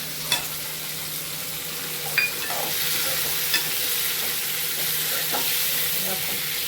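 Cashew nuts frying and being stirred in a pan for chenna masala, giving a steady close sizzle with occasional sharp scrape and clink transients from the spoon, and no talking.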